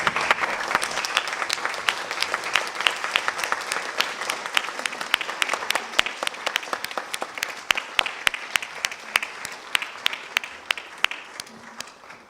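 Graduating students' audience at a 2011 GMAP event applauds steadily, a dense, close wash of clapping with sharp individual claps standing out, sustained throughout with a slight fade toward the end; no cheering voices stand out.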